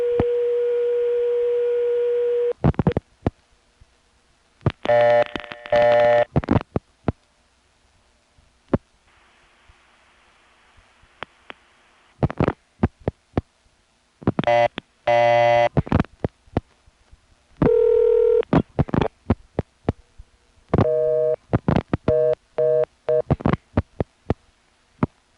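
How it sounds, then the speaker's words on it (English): Telephone line on a 1A ESS Centrex system, with a dial tone cut by repeated flashes, then bursts of DTMF dialing tones and clicks separated by short silences, repeated several times. "I'm going to do now is just flash and dial a number, flash and dial a number, flash and dial a number"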